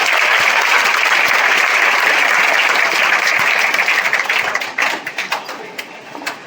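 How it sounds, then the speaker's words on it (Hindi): An audience at a toppers' award ceremony in Bihar claps loudly for a guest, steady applause that breaks into scattered individual claps before stopping. "प्लीज सर के लिए तालियां बजाइए।"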